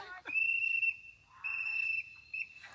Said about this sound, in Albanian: fill ka rënë është fishkëlluar birbili që ka përfunduar loja